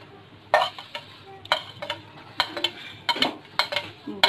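Sliced capsicum and onion going into a pan for chicken jalfrezi and being stirred, with close, irregular scrapes, clinks and soft sizzling bursts and no talk.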